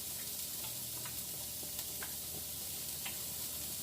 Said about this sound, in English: I got the garlic and the onion cooking